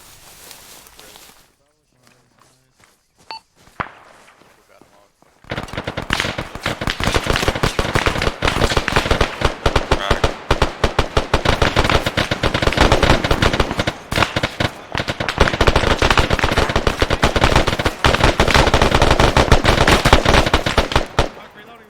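Dense Arma 3 squad training firefight, with rapid bursts of rifle and machine-gun fire crackling almost nonstop after a few quiet scattered shots, loud and close, with voices faintly underneath.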